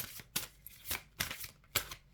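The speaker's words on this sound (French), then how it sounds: "Je vais mettre 6 cartes." Six tarot cards laid down one after another, each a short crisp slap or flick of card stock with brief pauses between, close and fairly quiet with no talking.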